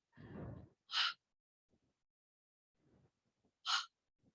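Two sharp, breathy exhales during chair yoga side bends, separated by a few quiet seconds, close and fairly loud against near-silence, with one softer breath before the first.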